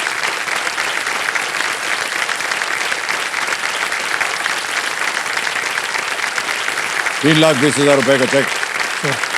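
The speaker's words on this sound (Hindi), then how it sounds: "तालियां बज जाए इनके लिए" Dense, steady studio audience applause fills a KBC game show set, loud and continuous, with a voice speaking over it near the end.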